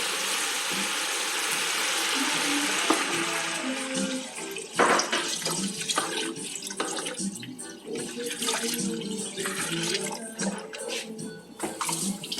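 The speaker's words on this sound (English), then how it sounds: "So we pour the water in." Water pours and splashes into a pot for chicken foot soup, a sustained gurgling stream with clanks and rattles, close by, with a brief voice faint underneath.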